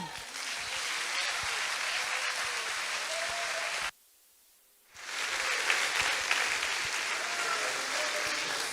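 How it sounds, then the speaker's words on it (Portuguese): Church congregation applauding during a worship service, sustained even clapping that drops out briefly for about a second before resuming at full strength. "Vamos aplaudir ao Senhor."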